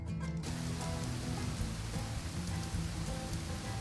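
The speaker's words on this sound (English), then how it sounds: "It's raining." Steady rain falls in the Minecraft video game, a dense, even patter on surfaces that continues without a break, with a faint low rumble underneath.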